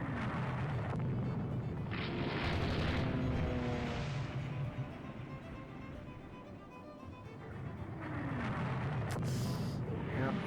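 Bombs from a level-bombing run explode on transport ships in the naval strategy game Rule The Waves 2, dense rumbling booms and blasts rolling continuously and loudly with no speech.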